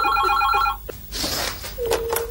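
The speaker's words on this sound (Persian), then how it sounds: "اینم تلفن" An old-style telephone bell rings rapidly for under a second, followed by rustling noise and a short tone.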